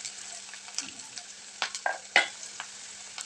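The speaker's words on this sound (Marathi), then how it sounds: "कांद्याला आपण छान सोनेरी कलर येईपर्यंत, सोनेरी रंग येईपर्यंत हलवून घ्यायचं आहे" Chopped onion frying in hot oil for a dry potato bhaji, a soft sizzle broken by several distinct spatula stirring scrapes, close and intermittent, with no voices.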